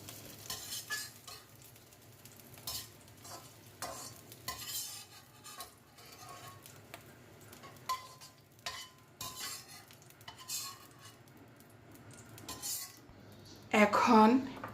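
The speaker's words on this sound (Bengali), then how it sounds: "এবার পেঁয়াজগুলো উঠিয়ে নিচ্ছি।" Fried onions are scooped out of a frying pan with a metal utensil, a run of quiet scrapes and clinks against the pan, with a louder clatter at the very end.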